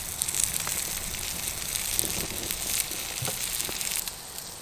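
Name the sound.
pork chop sizzling on a hot rock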